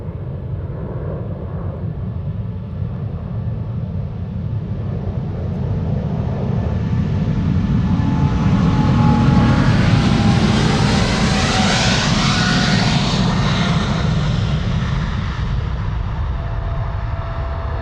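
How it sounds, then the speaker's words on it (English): A Boeing 737 bound for Budapest takes off from the centre runway at Amsterdam Schiphol with a continuous loud engine roar that swells toward the middle, a rising whine sweeping through it. "there's a 737 to Budapest first taking off from center"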